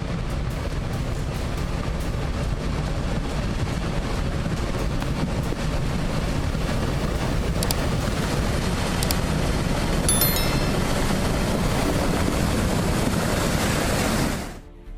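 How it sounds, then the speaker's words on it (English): A massive landslide surges through city streets in Atami, a continuous loud roaring rush of earth and debris that holds steady for the whole stretch with no voices, then drops off sharply at the very end. "a massive landslide surged through the city like a waterfall of earth, overwhelming streets within seconds"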